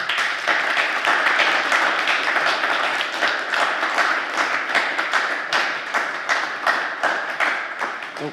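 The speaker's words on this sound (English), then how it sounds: "Please make a big applause for our speakers." A conference audience applauds the panel speakers on Ukraine and the European Union, a close, even wash of many hands clapping that holds steady throughout and thins slightly toward the end.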